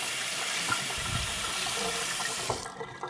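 A kitchen tap runs cold water over a hot sponge in a steady hissing splash that continues close and even before cutting off near the end.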